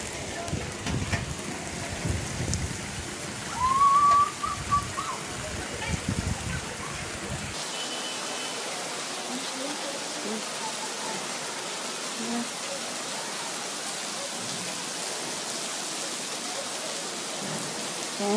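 Rain falls steadily on a street in Damanhur, Egypt, a dense even hiss that continues alone after a stretch of faint background noise and a brief chirp.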